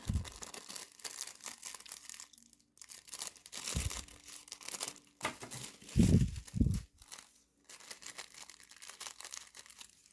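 A paper sewing pattern is folded in half, giving bursts of crinkling and rustling paper with brief pauses and a few louder crumples, close and fairly quiet.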